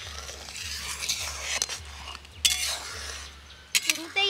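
Milk being stirred in a pot as it boils: a spoon scrapes and clinks against the metal in repeated strokes over a soft bubbling simmer and a low background hum.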